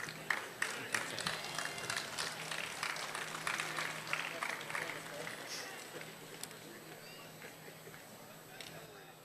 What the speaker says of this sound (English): Join me in applauding the graduates